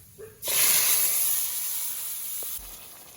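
Malabar spinach drops into hot oil with garlic and sets off a sudden loud, hissing sizzle that holds steady for about two seconds, then cuts off abruptly.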